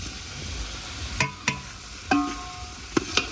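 A spoon stirs boiled potato into roasted masala in a pan, with a few scattered clanks and scrapes against the metal over a faint, low sizzle.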